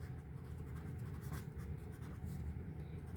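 Handwriting while working out a square and rectangle area problem, a soft continuous scratching of pen on paper under a low background hum, no voices.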